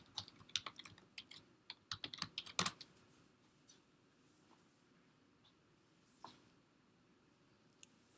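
Computer keys are tapped in quick, uneven bursts of clicks, thick at first and then thinning to a few isolated presses, fairly quiet and close, as commands are typed in a lecture setting.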